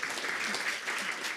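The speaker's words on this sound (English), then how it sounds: "This panel, please, with an applause too." Seminar audience applauds a panel on steel industry standardisation, a brief, even burst of many hands clapping at moderate level, steady from start to end.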